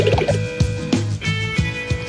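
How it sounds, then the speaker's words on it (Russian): Water is scooped from a backyard pond with a container, giving repeated splashy pours and drips in an uneven rhythm, close and fairly loud with no talk. "Вычерпаю немного воды."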